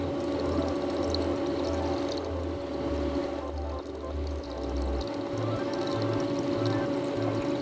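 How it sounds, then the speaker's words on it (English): Water pours steadily out of a homemade pool heater, a continuous close splashing flow with a low pulsing hum running underneath, and no voices. "And water coming out of the Redneck pool heater, it's at least"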